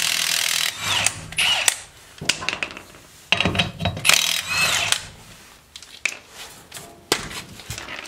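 An impact gun and socket hammer at brake bolts on a 2011–2015 ninth-generation Honda Civic's rear brakes. Loud, close mechanical bursts start and stop repeatedly with short pauses.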